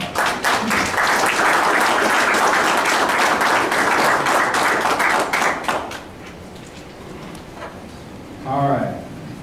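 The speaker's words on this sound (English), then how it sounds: "let's give a round of applause" Round of applause at a city council meeting, dense clapping from the room lasting about six seconds before fading into quiet, followed by a short spoken remark.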